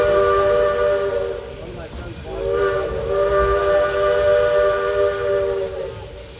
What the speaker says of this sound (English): watch the steam train crossing the bridges below them